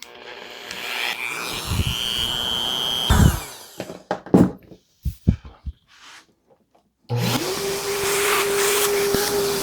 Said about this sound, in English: Now we'll go ahead and drill them.